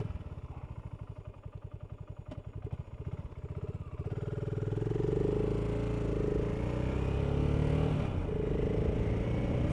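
A BSA Gold Star 650 motorcycle pulls away in a short first gear, its single-cylinder thump loud and close, then building into a steadier, rising engine roar.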